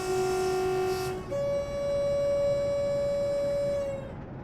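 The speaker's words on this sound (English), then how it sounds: "Now I'm not sure if this whistle warning sign is for us, but I'm going to blow it anyway" Train whistle in Train Simulator 2020 on the Exeter St Davids to Paignton line near Dawlish Warren: a short steady tone, a brief break, then a longer, louder sustained blast at a higher pitch, close and clear.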